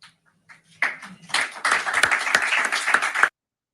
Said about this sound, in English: Did the press just clap for that shit?